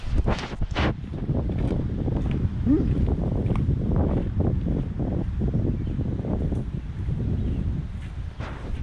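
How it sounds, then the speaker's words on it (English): Strong wind roars and buffets the microphone throughout, a loud continuous low rumble with gusty bursts and brief faint sounds. "Kind of windy out here"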